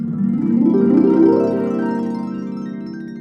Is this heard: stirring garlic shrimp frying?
no